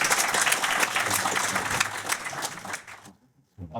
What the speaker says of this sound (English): So please give Simon a big round of applause.